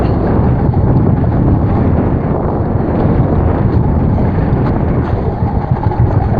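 Boat engine running steadily on a rough, choppy sea near a mothership off Surigao, a continuous loud rumble with wind buffeting the microphone throughout, no voices.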